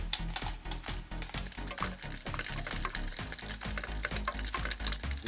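Ginger greens stir-fried with soy sauce in a pan, a soft sizzle under quick, rhythmic stirring scrapes and taps repeating several times a second, fairly quiet and close.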